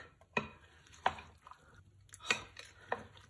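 A salad is tossed lightly with dressing, giving a few soft, separate clinks and rustles of utensils against leaves and bowl, close and quiet.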